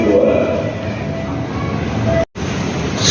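A commuter train pulls into Buaran station with a loud, steady rumble and rolling rail noise close by. The sound cuts out briefly for a moment before the rumble resumes.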